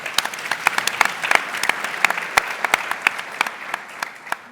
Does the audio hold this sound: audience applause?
yes